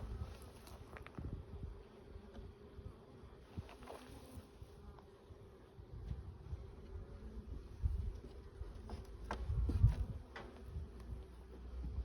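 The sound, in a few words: honey bees buzzing in swarmed hive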